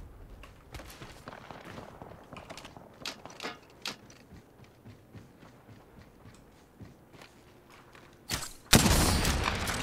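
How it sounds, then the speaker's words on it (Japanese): Valkyrie's missile volley in Apex Legends, a string of sharp launch bursts and mechanical clicks leading to a loud, dense barrage of impacts at the end. "ミサイルを発射する"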